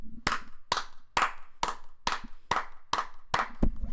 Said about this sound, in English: Round of applause to WWE for finally giving me something good.